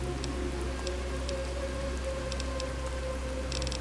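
Rain patters steadily in the video game Fallout: New Vegas, a constant wet hiss with scattered sharper drips, mixed over a low ambient hum and sustained tones, with no one talking.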